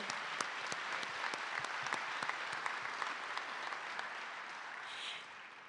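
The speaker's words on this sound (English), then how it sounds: "can we get a round of applause for these stud volleyball players up here?" Audience applause for volleyball players at the Missouri Sports Hall of Fame enshrinement in Kansas City, a full hall clapping steadily with crisp individual claps popping through, then thinning and fading in the last moment.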